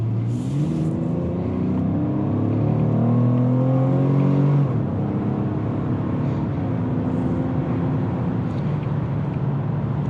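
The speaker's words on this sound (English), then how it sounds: "I just want to give you an idea of how it sounds, the engine and all that" A 2020 Lexus RX 350 engine revs and accelerates steadily, its pitch climbing through gear shifts, loud and continuous from start to finish with no voices.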